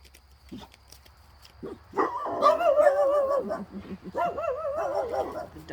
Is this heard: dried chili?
no